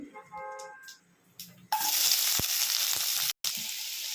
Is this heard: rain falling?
no